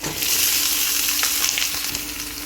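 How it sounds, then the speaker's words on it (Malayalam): Banana flower and cabbage just dropped into a hot pan over a low flame, producing a loud, dense, steady sizzle with no voices. "അപ്പോൾ ഈ വാഴച്ചുണ്ടും ക്യാബേജും കൂടെ ഞാൻ ഇട്ട് കൊടുത്തിട്ടുണ്ട്"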